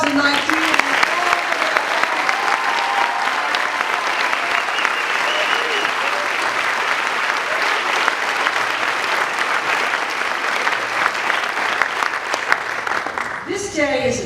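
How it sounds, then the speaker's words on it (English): Applause for the 2019 graduates at a graduation ceremony: a large crowd claps loudly and steadily without a break, a dense wash of hands that carries on to the very end. "A big round of applause for the graduates of 2019."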